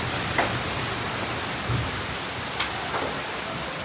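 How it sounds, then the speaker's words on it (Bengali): Heavy rain falling outside at night, a loud, steady wash of noise with a few brief louder drips or splashes standing out, no talking heard. "বাহ, অস্থির বৃষ্টি হইতেছে বাইরে পুরো"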